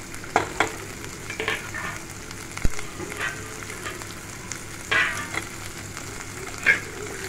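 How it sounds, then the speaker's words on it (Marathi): Chopped onion fries in a pan of oil for a shevala vegetable dish, a steady crackling sizzle broken by several louder stirring scrapes and spatula knocks, up close with no voices. "आता आपण यामध्ये कांदा टाकून घेऊया"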